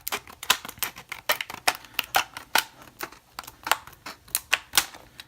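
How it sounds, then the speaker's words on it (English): Trauma shears snipping through stiff plastic blister packaging around a US General padlock, a close, dry series of sharp crunching cuts in an irregular rhythm, heard alone. "these scissors are the best scissors for opening this blister packaging"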